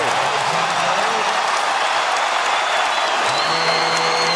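Dense roar of a basketball arena crowd cheering and applauding as James Harden of the Houston Rockets breaks Calvin Murphy's single-game scoring record against the Magic, loud and sustained with whoops rising from the mass of noise.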